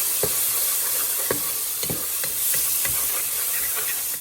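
Soft tomatoes seasoned with salt and turmeric are stirred in a hot pan, giving a steady sizzle with a run of regular scraping strokes, close and fairly loud, with no voices.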